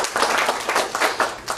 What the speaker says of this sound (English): I want you to applaud yourselves for being a great audience